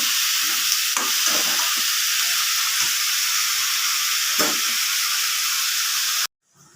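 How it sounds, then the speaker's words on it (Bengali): A loud, continuous sizzle of snake gourd frying in hot oil in a kadai, with a few soft clinks of stirring, close by, before stopping suddenly. "এবার আমি চিচিং আদা ভেজে নেব ভালো করে লাল করে আমি ভেজে নেব"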